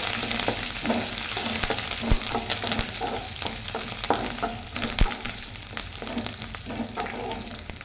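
Mustard seeds, curry leaves and dried red chillies crackle and sizzle in hot oil while being stirred, a loud, close, steady fry punctuated by sharp pops and scraping strokes.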